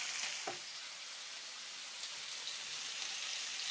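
Onions and fennel brown in a frying pan as a steak topping, giving a dense, continuous sizzle and crackle of frying at an even level with no talk.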